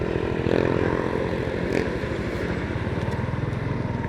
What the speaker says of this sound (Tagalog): Pwesto muna natin ang ating motor.